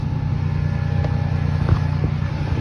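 A Chevy engine idles with a steady low rumble just after a cold start, close and even with a faint whine riding on top.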